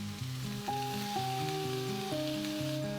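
Shredded cabbage sizzles while being stir-fried in a pan with rice vinegar, a soft continuous hiss sitting beneath louder melodic background music with held chords.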